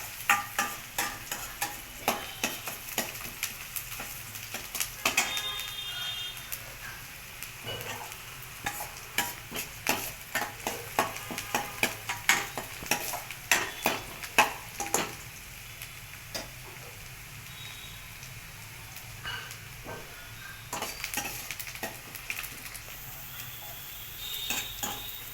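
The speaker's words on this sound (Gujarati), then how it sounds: "ડુંગળી થોડી થોડી સાતળવા દેવાની પહેલા." Onions sauté in a pan as vagharelo rotlo is prepared at night, a soft sizzle under repeated scraping and stirring clatter from a utensil against the pan, with quieter stretches between bursts.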